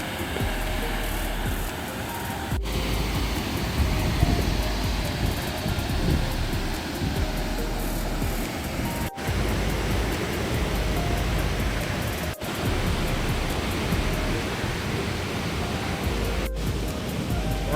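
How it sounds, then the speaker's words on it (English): Waterfall at Geiranger Fjord, Norway, heard as a steady, loud broadband rush of falling water filling the whole stretch without pause, with no voices over it. "I can hear the waterfall from here."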